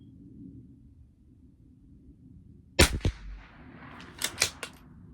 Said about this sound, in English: Last shot.